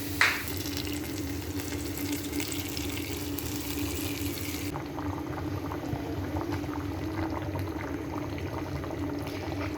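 Garlic, ginger and curry leaves fry with mustard seeds in hot oil for a fish-head curry, giving a continuous close sizzle. A sharp spit opens it, then an even bubbling hiss continues with no talk.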